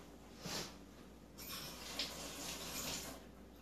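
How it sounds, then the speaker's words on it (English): Water running from a kitchen tap while a hand is rinsed under it, a soft, quiet hiss and splash that swells and fades over a few seconds, with no talking. "Let me rinse my hand."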